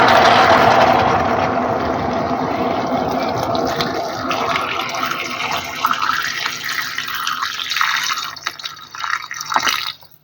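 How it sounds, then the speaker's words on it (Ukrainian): Water gushes into a pot over sliced zucchini, loud and splashy at first, then thinning into a softer trickling pour that tapers off near the end, with no voices. "висипаю собі кабачки нарізані. І заливаю водичкою, щоб покрило."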